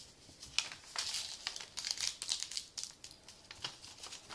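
Origami paper being folded and creased while making a rabbit, giving close, steady crinkling and crisp rustling bursts throughout with no voices.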